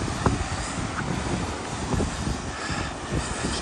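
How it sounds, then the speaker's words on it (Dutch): Strong wind in Greece roars steadily into the microphone, a loud continuous rushing buffet with no voices. "En het waait heel erg hard."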